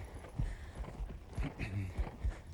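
Hooves of a ridden horse clip-clop in a steady walking rhythm at moderate distance during a basic horsemanship lesson, fairly soft with faint talk nearby.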